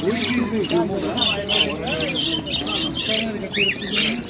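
Many caged birds chirp and tweet continuously at the Bukhara bird market, a dense busy chorus of overlapping calls with people talking throughout.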